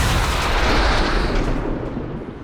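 Truck exploding in the video game XCOM 2, a loud deep blast with a long rumbling tail that slowly thins out, heard alone.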